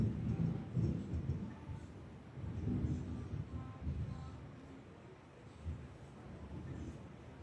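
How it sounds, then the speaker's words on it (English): Thunder rolls in the background, a low, soft rumble that swells and fades in slow waves, with no speech over it. "I don't know if you guys can hear it thundering in the background,"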